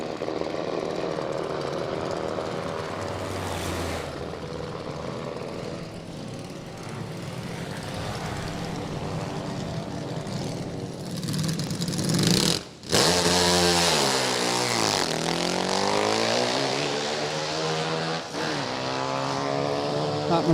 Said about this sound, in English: That machine dates back to the early 70s. Supercharged, nitro burning.